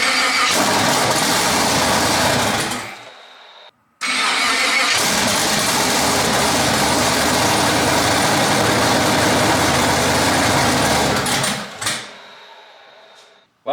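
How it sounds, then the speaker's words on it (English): An LS-swapped car engine cranks, cuts out briefly, then fires and runs loud and steady at close range before shutting off near the end. "So just because the car can start, we're gonna go ahead and fire it up for you guys."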